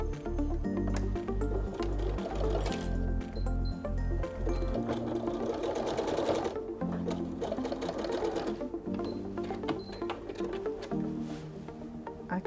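A sewing machine runs steadily, stitching a zigzag seam on a felt bag. The mechanical whir and needle rhythm are loud and close, with a shift in pace partway through and no talking.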